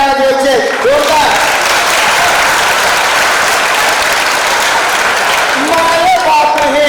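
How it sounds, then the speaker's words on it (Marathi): Students clap loudly and steadily at a school annual prize-giving ceremony in Shingve, Niphad, a dense wash of applause filling the hall, with a voice speaking briefly at the start and end. "मग त्यांच्यासाठी आपल्याला एकदा जोरदार टाळ्या वाजवायचे जोरदार"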